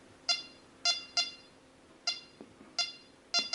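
Rex Delta 4 metal detector gives repeated short, bright electronic signal beeps, seven in a slightly irregular rhythm, close and clear over quiet background.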